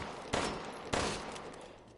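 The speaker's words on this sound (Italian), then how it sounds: "Non sente gli spari." Two separate gunshots ring out in Resident Evil Village, each a sharp broadband crack with a short decaying tail, spaced about half a second apart over low ambient noise.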